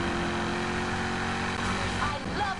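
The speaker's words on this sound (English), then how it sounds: "I love the sound of this engine." A loud, continuous car engine drone in Need for Speed racing, with a steady rumble and a slight rise in pitch near the end.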